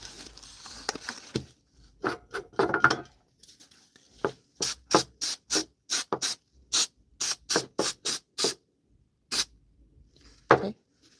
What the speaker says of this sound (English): Let's spray this edge right here.